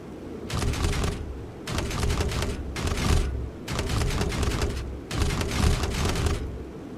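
Grenade launchers and heavy weapons fire in bursts in the space station combat video game Space Thunder, five loud, rattling volleys separated by brief pauses over a low rumble.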